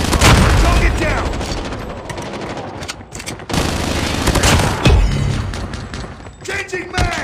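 Dense video game gunfire from a shotgun and an MSMC, with heavy booming blasts and rapid crackling bursts close up, plus callouts from voices amid the shooting.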